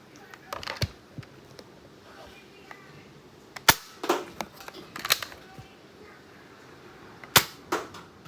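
A Nerf Elite 2.0 Prospect QS-4 blaster fires double shots, giving a series of sharp, loud plastic snaps and pops with clicking mechanism noises between them, heard close up.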